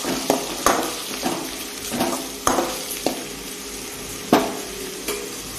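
Tomato, carrot, beans and potato sauté in a pan for rava kichadi while a spoon stirs, giving steady sizzling broken by repeated scraping clinks and knocks against the pan, close and clear with no talk.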